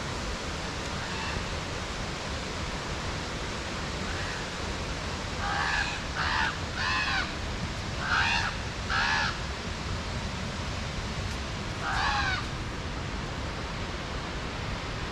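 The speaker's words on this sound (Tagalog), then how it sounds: "sa likod ko ito yung mga maingay na raven" Harsh caws from several ravens ring out in scattered groups over a steady rushing background noise like wind or water, near a parking area.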